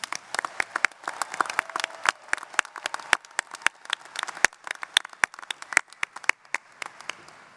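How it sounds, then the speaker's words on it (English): A graduating class and audience at a Rutgers School of Business–Camden commencement clap steadily, with dense, crisp, sustained applause filling the hall and sharp individual claps standing out throughout. "Class of 2025, give yourselves a huge round of applause"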